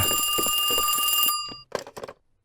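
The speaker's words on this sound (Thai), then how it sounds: "เสียงโทรศัพท์มา" A telephone rings with a steady electronic trill for just over a second and then cuts off abruptly, followed by a few short, soft knocks and rustles in an otherwise quiet room.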